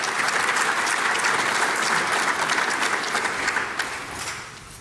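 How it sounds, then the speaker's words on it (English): Sustained applause from a seated audience of diplomats at a presidential New Year greetings ceremony for the diplomatic corps in Namibia, a steady dense clapping that holds loud for several seconds and then begins to taper off. "May we give her another round of applause."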